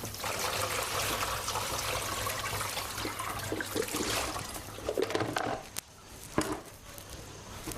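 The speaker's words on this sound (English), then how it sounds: "Pour in a bit of cold water" Cold water poured over strained noodles, a steady broadband splashing and trickling that runs continuously for several seconds, then breaks into a few irregular drips and splashes near the end.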